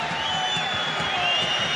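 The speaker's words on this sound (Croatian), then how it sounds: "Negoduje publika na Rujevici" Football crowd at Rujevica stadium in Rijeka voicing disapproval during a European play-off match against PAOK, a steady broad roar of the stands with a commentator talking over it.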